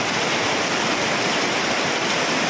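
Steady, dense rushing of rainwater pouring and leaking into a small house room, loud and unbroken from start to finish with no voices.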